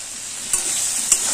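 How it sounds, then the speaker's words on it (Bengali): Ridge gourd and potato pieces fry in hot oil over a high flame, a loud continuous sizzle broken by two sharp stirring scrapes, with no voices. "গ্যাসের ফ্লেমটা হাইতে করে 2 মিনিট ঝিঙে আর আলু ভাজা হয়ে গেছে।"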